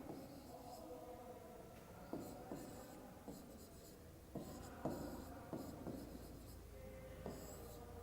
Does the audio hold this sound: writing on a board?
yes